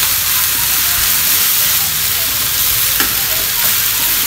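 Chicken and coriander fried rice being stirred and tossed in a hot pan, a steady close sizzle with scraping and soft clatter of the spatula throughout, no voices.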